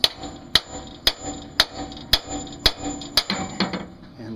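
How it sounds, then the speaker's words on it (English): Sharp metallic hammer blows strike an old inner tie rod on a 2002 Lincoln Town Car during suspension work, eight evenly spaced loud clanks roughly half a second apart, followed by a few softer, quicker taps. "So it's okay to hit it with a hammer"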